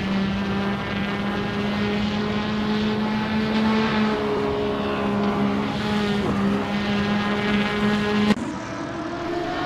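Racing engines drone steadily around the Mosport track in a GT race with a Glickenhaus and Porsches, a continuous tonal whine that shifts in pitch before a sudden cut, with no talk over it.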